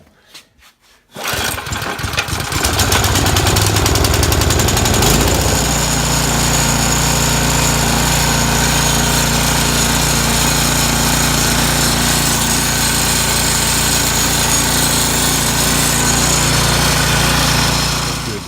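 A pull cord yanks an MTD snow blower's small engine, which catches after a brief sputter and roars into a loud, steady, close running drone that continues without talk.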